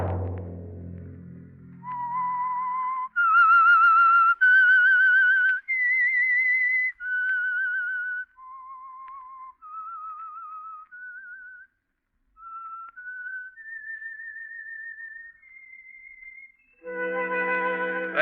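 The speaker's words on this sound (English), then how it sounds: "Let that whistle be your signal for the Signal Oil program, The Whistler" The whistled theme tune of the radio show The Whistler, a clear solo melody of sustained, gliding notes in several phrases separated by brief pauses, alone and up close.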